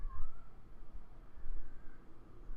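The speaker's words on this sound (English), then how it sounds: "it's a kitty cat outside meowing" A cat meows outdoors, a short faint call near the start, under a low background rumble.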